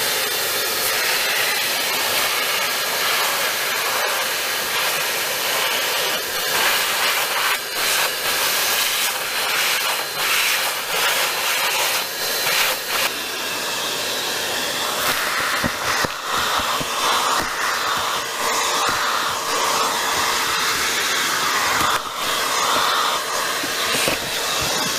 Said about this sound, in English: here's the interior vacuumed, and the headliner is gone now